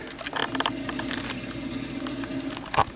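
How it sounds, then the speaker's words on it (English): A sump pump runs in a flooded basement, a steady churning, bubbling water noise with faint splashes and a brief louder burst near the end, close by and without speech. "Sump pump is running."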